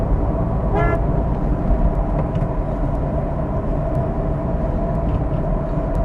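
A car on the road gives a short warning toot of its horn to the vehicle ahead. The brief honk comes early and sits over a continuous loud rumble of engine and traffic noise.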